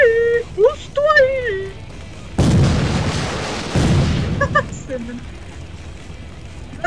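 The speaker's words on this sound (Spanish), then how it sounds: "Los disparos desgarran la pared de mortero con una llama explosiva." Explosive gunfire in the video game Lucky Dog 1+ Bad Egg comes as a dense, booming burst of shots lasting a couple of seconds, set between stretches of speech.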